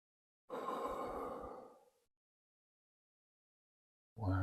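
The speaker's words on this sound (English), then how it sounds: "Deep breath in." A single deep breath drawn in during the count-up out of a hypnotic induction, a long airy inhale of about a second and a half, close and fairly loud, followed by silence.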